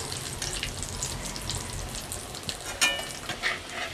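Lote fish chops frying in hot oil, a continuous crackling sizzle with a few sharper pops and clinks toward the end, no talk.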